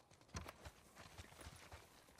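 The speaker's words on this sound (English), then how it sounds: "Horse scared me for a second." Horse hooves clip-clopping in The Last of Us Part II, a quick run of faint, soft thuds passing nearby in a brief burst.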